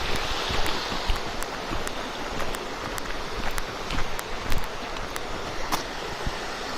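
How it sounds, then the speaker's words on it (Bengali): Steady rushing water tumbling over rocks at Sitakunda, Bangladesh, a broad continuous wash with scattered splashes and clicks, fairly close and unbroken throughout. "দেখতে পাচ্ছেন যে পাথরের উপর দিয়ে কিভাবে পানিগুলো যাচ্ছে।"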